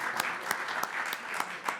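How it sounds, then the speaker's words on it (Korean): Birthday applause from a forum audience at a National Assembly education finance debate, a steady patter of many hands with sharper individual claps punctuating it, moderately close and without talk. "생일 축하 박수 한번 부탁드립니다."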